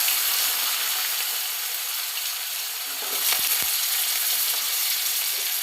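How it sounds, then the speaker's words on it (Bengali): Diced potatoes fry in a pan with a cumin tempering for a Bengali banana-blossom curry, giving a steady, loud sizzle with a couple of quick stirring scrapes midway and no talking. "আলুগুলো একটু ভেজে নেব।"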